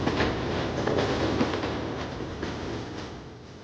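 The Canadian passenger train rolls west through the highlands of central British Columbia, a steady loud rumble of wheels and carriages with faint rhythmic clicks throughout and no voices.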